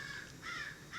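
A crow outside a window caws three times in a harsh, evenly spaced series, moderately distant and heard alone.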